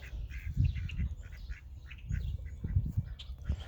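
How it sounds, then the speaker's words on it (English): Several mallard-like ducks quack nearby in a quick, overlapping run of calls, fairly loud and with no talking. "we got these ducks. They're not mallards."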